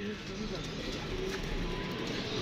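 Pigeons coo softly around a rooftop loft where fanciers keep and fly their birds, low repeated calls sitting under steady background noise and faint voices.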